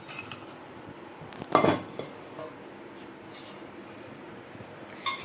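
Whole cloves tipped into a hot dry pan and lightly roasted for homemade Bhai-style garam masala: one short metallic clatter near the middle, then only faint scattered ticks against a quiet background.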